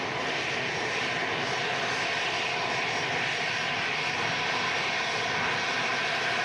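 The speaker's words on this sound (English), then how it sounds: "Dreamliner rolling." A Boeing 787 Dreamliner jet airliner rolling for takeoff at a windy Manchester Airport, a steady loud broadband engine roar with rushing wind, unbroken for the whole stretch, no voices.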